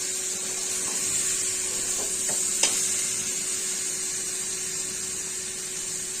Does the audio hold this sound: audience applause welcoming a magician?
no